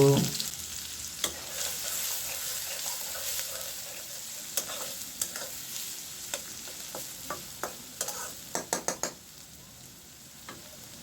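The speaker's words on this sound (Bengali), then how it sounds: "রান্নার জন্য তেল দিব পেঁয়াজ দিব" Onion frying in oil for a small tangra fish curry, a quiet continuous sizzle close by, punctuated by scattered clicks and scraping taps of stirring that grow busier toward the end, with no voices.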